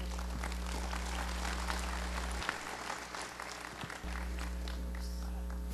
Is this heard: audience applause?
yes